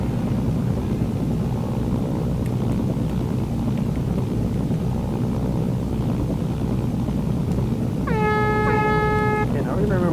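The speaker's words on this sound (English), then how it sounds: "now remember to honk" A loud truck horn honks in the video game Mercenaries, a single sustained blast near the end over steady engine and wind rumble.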